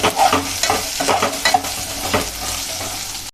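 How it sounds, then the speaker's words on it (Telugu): Ridge gourd pieces fry and get stirred in hot oil with sesame seeds and chillies, a loud close sizzle with repeated scraping stir strokes throughout. "నువ్వులు మిరపకాయలు వేగిపోయినాయండి దీంట్లోనే బీరకాయ వేసుకున్నాము"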